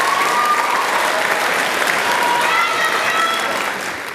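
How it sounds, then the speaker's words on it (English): Warm, steady audience applause rises for student soloists at the Roseville Middle School 2018 spring band concert, a full, continuous wash of clapping that tapers slightly near the end. "So let's have a round of applause for them, please."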